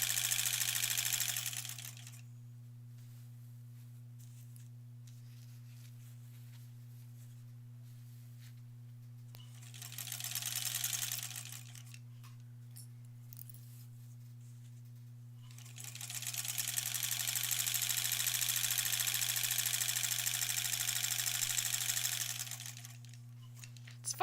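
Sewing machine stitching quilt blocks together into rows for an Aurifil quilt, running in three bursts, a short one, a brief one, then a long steady run, over a constant low electrical hum.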